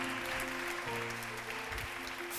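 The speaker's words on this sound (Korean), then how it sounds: "큰 박수로 시작하시죠." Audience applause greets a professor's lecture, a continuous dense clapping from many hands that stays even and fairly faint throughout.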